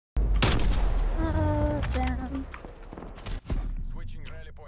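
Gunfire in Call of Duty: Black Ops Cold War, a loud burst of shots at the start, then scattered impacts and a sharp crack near the middle, with voices talking throughout.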